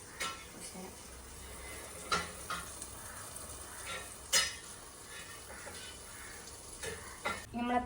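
A butter-coated patty cooks in a covered pan, giving a faint, steady sizzle with occasional soft clinks and knocks of the lid and utensils.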